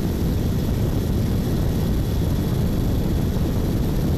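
A helicopter flies over the seaside Adnan Menderes Boulevard in Mersin, heard as a loud, steady rotor and engine drone that persists throughout without talk.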